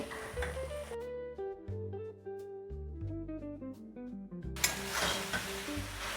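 Soya chunks are stir-fried kosha style in a pan as a meatless meat dish, sizzling briefly at first and then loudly near the end, with music playing through the middle.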